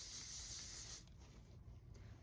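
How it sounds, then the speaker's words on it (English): Hairspray hisses out of an aerosol can onto hair in one steady, close, bright spray for about a second, then stops, leaving quiet room sound. "I'm just gonna hairspray it and use my hand to like lay down the flyaways"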